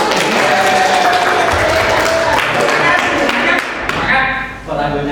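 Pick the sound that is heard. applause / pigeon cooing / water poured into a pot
applause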